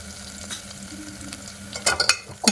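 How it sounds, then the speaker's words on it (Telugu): Toor dal and Malabar spinach greens sizzle in hot oil inside a pressure cooker, a steady frying hiss broken by sharp metallic scrapes and clatters as the mix is stirred. "అవి రెండు కూడా ఆయిల్లో బాగా ఫ్రై చేసుకోవాలి"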